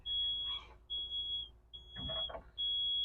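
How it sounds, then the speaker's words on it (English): A wheelchair lift on a converted Mercedes Vito gives off a loud, piercing, high warning beep in long repeated tones with short gaps, mixed with faint mechanical clunks in between. "that beeping noise, you will hear that the entire time that our lift is out"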